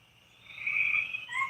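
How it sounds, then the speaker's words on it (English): Spring peepers and toads call outdoors in a high, rising trill that swells and then repeats briefly, moderately distant and clear over a quiet background. "these are all spring peepers and toads that we're hearing right now"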